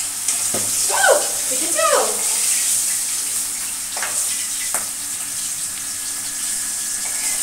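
Rohu fish pieces frying in hot oil in a home kitchen, a steady sizzle running throughout, with someone speaking briefly over it and a few clinks of utensils.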